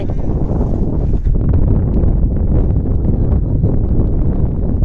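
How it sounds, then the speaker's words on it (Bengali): Breeze sweeps across an open field, buffeting the microphone in a loud, continuous low rumble with rustling throughout. "সেই ফুরফুরা বাতাস, ফাঁকা ময়দানে"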